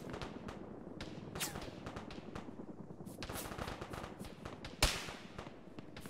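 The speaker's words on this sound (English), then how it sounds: "What the hell is shooting at us?" Heavy gunfire in the Arma military video game, with dense automatic bursts and scattered shots continuing throughout and one sharp, loud report near the end, while faint voices murmur underneath.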